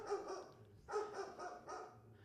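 A dog on stage in a school theater production, giving a string of four sharp barks in quick bursts, fairly close and clear, with no talking over it.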